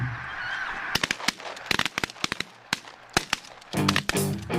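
Geese honk repeatedly over a steady background, broken by several sharp, loud gunshot-like cracks fired at the birds, with a burst of honking near the end.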